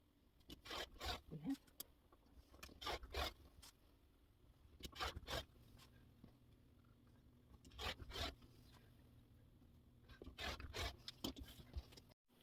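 Quilt fabric strips stacked together are cut at once, giving quiet, rapid rasping strokes in several short clustered bursts separated by near-silent pauses.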